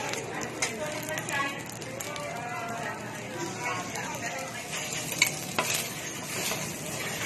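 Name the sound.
egg cooking and being mixed into kimchi rice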